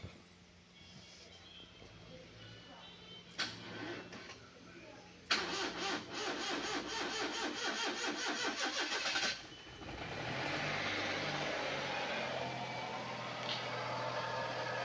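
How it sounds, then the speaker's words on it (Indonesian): A Perodua Viva car engine cranks with a rapid rhythmic whirring, catches and fires up, then settles into a steady idle, heard fairly close. "Sekarang kita mau crank dulu dia."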